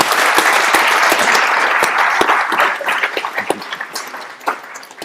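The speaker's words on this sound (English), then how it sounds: "Can we please have a round of applause for our panel?" Loud, dense applause from a conference audience at a business summit in Dubai, following a panel discussion. It holds steady for a few seconds with a few sharp individual claps, then thins out toward the end.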